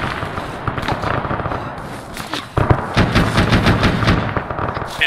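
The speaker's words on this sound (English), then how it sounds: "I think it's that BVP that's flipped over shooting at us" Rapid bursts of machine gun fire from a flipped-over enemy BVP armored vehicle in a military shooter game, crackling in dense volleys with scattered single shots, loud and sustained, with a short lull midway.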